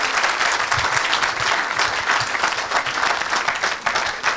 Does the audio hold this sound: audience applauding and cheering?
yes